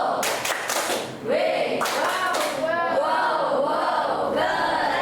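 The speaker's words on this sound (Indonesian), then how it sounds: "ditepuk lagi untuk piano. Yuk, tepuk wow" An audience in an educational session claps in a quick burst and then calls out together in a drawn-out unison shout, with crowd voices carrying over the room.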